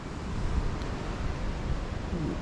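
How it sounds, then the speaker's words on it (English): Strong wind blows outdoors, buffeting the microphone with a continuous rough rumble and hiss for the whole short stretch, with no clear speech. "Try and stay out of the wind, it's a windy shit of a day."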